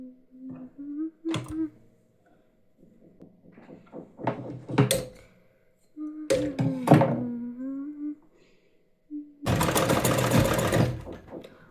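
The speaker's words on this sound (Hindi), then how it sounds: "ये मशीन बार बार बार बार बार बार धागा तोड़ रही है" An old domestic sewing machine, back in use after a long idle spell and repeatedly breaking its thread, runs in short stop-start hums with thumps and knocks between them, then one loud steady whirring run. Someone speaks briefly between the runs.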